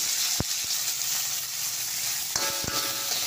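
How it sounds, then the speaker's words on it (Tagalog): Onion, tomatoes and garlic sauté in olive oil in a pan, giving a steady close sizzle with a few sharp clinks of a utensil against the pan and no talking. "i-saute ko na ang aking onion, tomatoes, tapos garlic"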